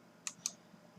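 Two quick, crisp computer mouse clicks close together, heard up close against a quiet background.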